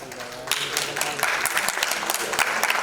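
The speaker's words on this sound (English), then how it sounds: "Big round of applause, please." Crowd applause at a music video launch event with Vivek Oberoi, a dense steady stretch of many hands clapping indoors, fairly close and sustained throughout.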